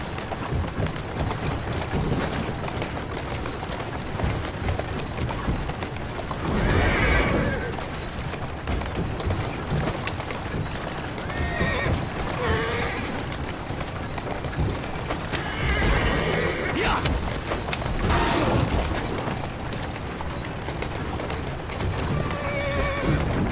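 A horse in the video game Assassin's Creed Syndicate neighs and whinnies several times over steady clip-clopping hooves and carriage rumble, with faint birds in the background.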